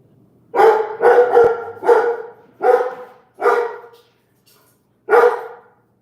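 A dog barking at night around two in the morning, six loud, close barks in quick uneven succession, a few running together and one coming after a short pause, with no talk.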